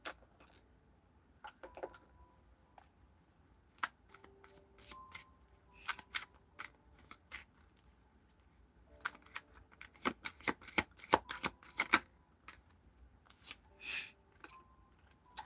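Tarot cards riffle and snap in irregular bursts of crisp shuffling, close and fairly quiet at first, then denser and louder toward the end, with no talk over them.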